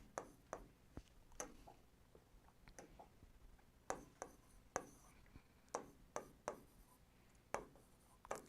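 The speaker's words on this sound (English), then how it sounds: "I will write the options." Answer options being written out, likely chalk or marker on a board, producing a sequence of sharp taps and short scratchy strokes in an irregular rhythm, close and fairly quiet.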